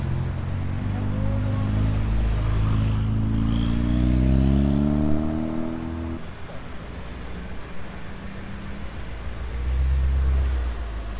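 A Porsche GT2 RS sports car arrives at Top Marques Monaco, its engine note rising and falling as it approaches and passes, then settling into a lower rumble amid street ambience.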